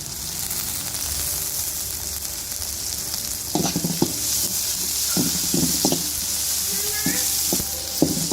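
A handful of curry leaves hitting hot oil for mutton varakari after ginger-garlic: constant crackling sizzle, then from midway a run of sharp spits and pops with utensil scrapes, loud and close.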